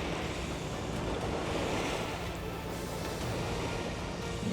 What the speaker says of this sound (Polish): za chwilę powinniśmy się zmierzyć tutaj z większą falą od tego rejsowca